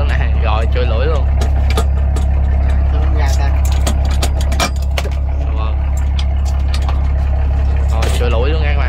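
A 180-ton wooden boat's engine runs steadily during a remote-controlled test run on a big river: a loud, constant low drone with people talking over it throughout.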